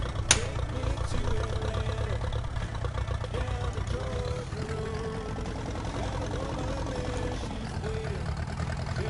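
Tractor engine idling in the farming game Farming Simulator 19, a steady low mechanical drone that runs unbroken throughout, with a person talking over it.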